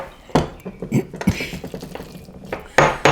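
Pestle pounding and grinding in a mortar, mashing ingredients with olive oil added: irregular close knocks and scraping strokes, with a couple of louder hits near the end and no speech.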